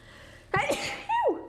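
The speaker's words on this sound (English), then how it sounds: "I'm actually going to sneeze." A single loud sneeze, a quick sharp burst followed by a short voiced tail, close to the listener.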